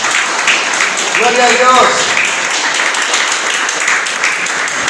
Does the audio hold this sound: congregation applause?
yes